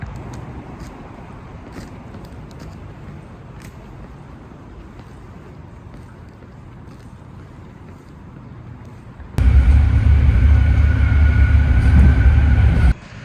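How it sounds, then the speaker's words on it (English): A BART train carrying a rider one stop between stations gives a steady low rumble inside the car, then swells into a loud, harsh roar for the last few seconds before easing off, with no one talking. "I go in the station, literally take the train one stop"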